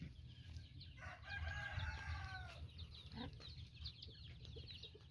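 A Shamo gamecock rooster crows once, a drawn-out call at moderate distance over a faint low background hum, with softer clucking or bird sounds afterward.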